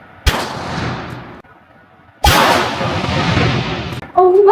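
Two loud gunshots ring out at a shooting range, each a sharp crack followed by a long reverberating tail. A short faint voice-like sound comes at the end.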